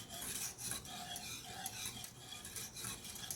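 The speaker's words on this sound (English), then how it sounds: "So we're just going to mix that until it dissolves." A utensil stirring simple syrup for a cake until the sugar dissolves, soft repeated scraping and swishing strokes in a steady rhythm, quiet and close.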